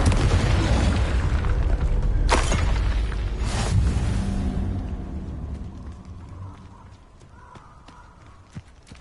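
The Confringo explosion spell in the video game Hogwarts Legacy sets off two sharp booms over a heavy, dense rumble that slowly fades into quieter game ambience.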